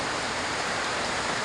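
Heavy rain pours down steadily during a rainy day in the Philippines, a dense, even wash of hiss that stays loud and unbroken throughout, with no voices.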